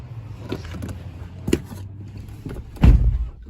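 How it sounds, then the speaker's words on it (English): A Tesla Cybertruck door, opened by button from inside, clicks and thuds open with a few short mechanical knocks, close by, ending in a heavier low thump. "you just press this button to open your door when you're inside"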